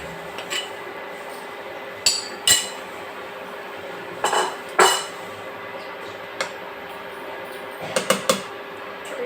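Boiled chickpeas go into a pot of simmering raw jackfruit and potato curry, with scattered light metallic clinks of a utensil against the pot, a few isolated taps and a quick cluster near the end, close by over quiet background hiss.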